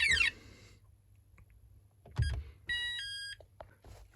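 A Texecom Veritas Excel intruder alarm sounds during a zone 2 test, giving a short burst of steady electronic tones with a quieter chirp before it, fairly close in a quiet room.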